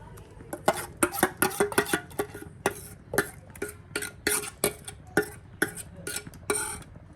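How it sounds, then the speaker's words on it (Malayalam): Ground coconut being stirred into ripe mango curry in a pot over a low flame, heard as a series of close, irregular scraping and clinking strokes of a spoon against the pot, with no talk. "അപ്പോൾ നമ്മൾ ലോ ഫ്ലെയിമിലോട്ട് വെച്ച് ഇത് ചേർത്ത് കൊടുത്ത് നന്നായിട്ട് ഇളക്കിയെടുക്കാം."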